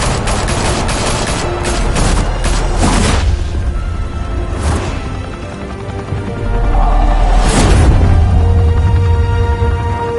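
Heavy gunfire in a Batman game: dense volleys and bursts of shots fill the opening seconds, followed by scattered sharp reports. A second loud flurry comes later over a deep, continuous rumble.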